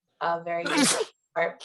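A single sharp sneeze bursts out between bits of speech, close and loud, with a person talking just before and after.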